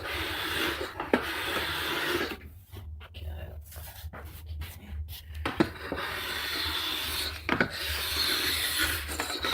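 A hand file rasps rust off a ski edge in repeated rubbing strokes, close and gritty, with a short pause in the middle and a person speaking over part of it.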